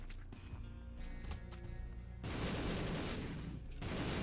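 Bomb explosions in The Binding of Isaac Repentance go off in a chained run of booms, first a scattered series of thumps, then a dense, loud burst of blasts that briefly pauses and resumes.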